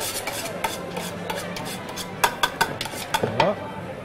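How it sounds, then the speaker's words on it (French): Mascarpone being stirred in a bowl for pistachio whoopie pie filling, a series of scraping, rubbing strokes with a few sharper clinks of utensil against the bowl, close and moderately loud with no talk. "Vous avez besoin de 250 g de mascarpone. Vous mélangez un petit peu pour le casser."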